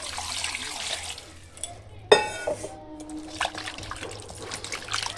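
Chicken pieces washed under water poured from a vessel, a soft trickle and splash with a sharp clink of metal utensils near the middle, followed by continued light sloshing close by.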